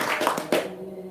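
A short burst of hands clapping, a few quick claps from several people close by, fading into a quiet background hum.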